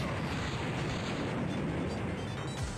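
Missiles launching and blowing up in Dragon Ball Z Budokai Tenkaichi 2, heard as a dense, continuous roar of explosive booms and rumbling blasts with no pause, loud and steady throughout.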